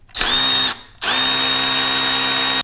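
A power tool with a 4mm Allen socket spins out a brake pad pin on a Harley-Davidson Street Glide. It makes two loud close whirring bursts, one short and one longer, with a brief gap between them.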